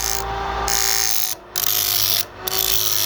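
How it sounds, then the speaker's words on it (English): A knife blade ground against spinning sandpaper driven by a repurposed scrap cooling fan, giving a steady close whirring rasp that cuts out briefly twice as the blade lifts away. "Carefully hold the knife at a consistent angle and gently move it across the spinning sandpaper."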